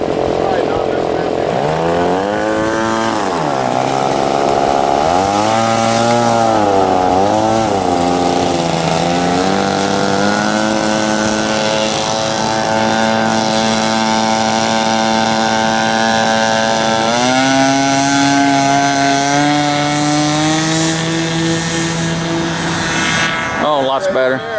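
A 60-size Reactor RC biplane engine buzzes loud and close throughout takeoff, its pitch sweeping up and down before settling into a steady high whine, with people talking over it.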